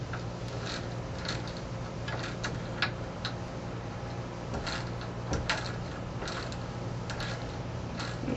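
Small metallic ticks and clicks come in irregular bursts as a locking nut is threaded onto the shaft of a Rajay turbocharger during a Corvair turbo rebuild, over a low steady hum.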